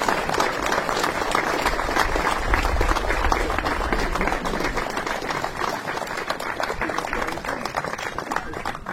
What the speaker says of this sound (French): puisque vous êtes en train d'applaudir